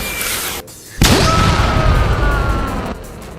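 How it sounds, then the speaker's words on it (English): A Fourth of July firework goes off with a sudden loud boom, then a sustained roaring crackle that holds for about two seconds before cutting off, with no talk. "Someone has to set up the fireworks or something's gotta pop."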